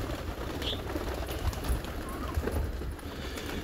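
Pigeons coo softly, low and muffled, within a dense, steady bed of background noise, with a faint bird call rising briefly near the start.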